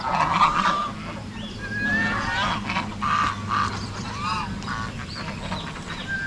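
Noisy honking from a flock of geese, many overlapping calls throughout, with steady farmyard background noise.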